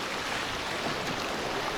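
Rough Black Sea surf churning against the rocks on the Odesa shore, a steady loud wash of water with no breaks and no voices.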